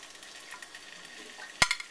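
Pork spare ribs going into a dry wok with no oil give a soft, low sizzle, then a sharp clatter or hiss near the end before the frying settles again.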